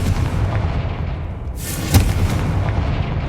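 In the Hogwarts Legacy game, a Confringo spell lands as a loud booming blast with a sharp crack at its peak, rumbling low over continuous background noise.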